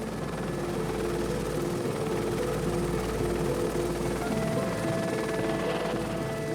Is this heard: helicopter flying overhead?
yes